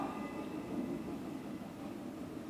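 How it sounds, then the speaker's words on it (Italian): Stage sound effect of a train passing during a theatre performance, a low steady rumbling roar held throughout at moderate level with no voices. "Sentivo passare un treno."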